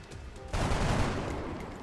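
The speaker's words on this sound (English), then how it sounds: "If you can get this just with the SMG." Submachine gun burst in the turn-based strategy game XCOM Long War, a sudden dense rattle of rapid shots that starts partway in and holds steady and loud to the end.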